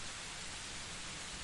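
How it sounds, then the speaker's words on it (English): Monsoon rain falls at night in a steady, dense hiss of drops with no breaks, soft and even for the whole short stretch. "The rain is abating, but the hourless hour of monsoon is not done."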